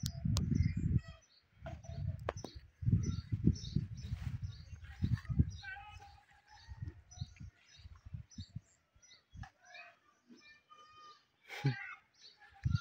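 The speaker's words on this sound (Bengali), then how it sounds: "কবুতরগুলো এসে বিলে চড়ছে" A flock of pigeons, including many young birds, feeds in an open field in Rajshahi, with faint scattered bird calls over bursts of low wind or handling rumble outdoors.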